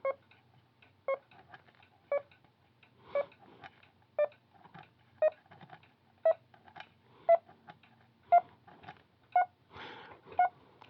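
A Morse code trainer, the SparGap Labs MCT-73, sounds short clean beeps at 500 hertz, evenly spaced about once a second, about eleven in a row and alone.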